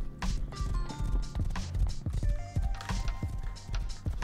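Horse hooves clip-clopping in the survival video game Rust, a steady run of hoof beats close by, mixed with game sound effects and no talk over them.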